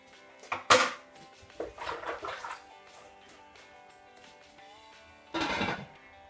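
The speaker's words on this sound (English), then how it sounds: "I'm now going to put my washed beef into my slow cooker" Washed raw beef goes into a slow cooker in a home kitchen: a few separate wet slaps, a brief splash and some clattering handling noises, spaced apart with quiet gaps between them and no talking.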